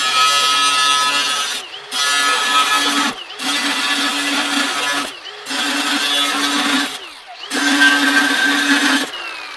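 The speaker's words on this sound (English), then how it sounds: "5 cuts with the abrasive wheel." An abrasive cutting wheel slicing through steel: five loud, sustained grinding bursts, each a few seconds long, separated by short gaps as the wheel spins between cuts.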